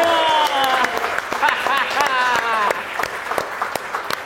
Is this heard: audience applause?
yes